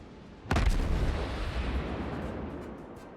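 A single heavy naval gun salvo fired in World of Warships from the light cruiser Kutuzov, a sudden loud booming blast followed by a long rolling rumble that slowly fades.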